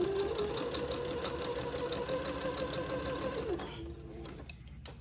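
A sewing machine stitches a side seam on a baby layette, its rapid, even whirring close and steady for several seconds before slowing and stopping, followed by a light click.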